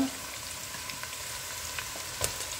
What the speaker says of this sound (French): Je commence par mettre les oignons dans l'huile.